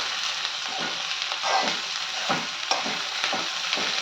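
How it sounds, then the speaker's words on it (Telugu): Onions and bitter gourd being stirred as they fry in a pan, a steady sizzle with repeated scraping strokes of the spoon every half second or so, close and moderately loud with no talking. "ఉల్లిపాయలు, కాకరకాయలు అన్నీ ఇలా నీట్గా కలుపుకోవాలి."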